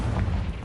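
The Confringo blasting spell goes off in the Hogwarts Legacy video game with a single short, heavy boom that rolls briefly and dies.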